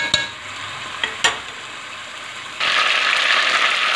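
Chicken frying in a pan for a chicken curry, a steady hiss that grows louder partway through, with a few clinks of a utensil stirring near the start.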